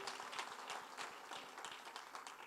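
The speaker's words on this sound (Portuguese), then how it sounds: "dá um aplauso ao Senhor" Congregation applause in a church service, a steady wash of many hands clapping at moderate loudness for a couple of seconds, with no speech over it.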